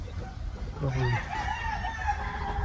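Gamecock roosters and battle stags crow on a farm keeping imported fighting stock, one rising cock-a-doodle-doo nearby over a backdrop of outdoor noise and softer distant clucking.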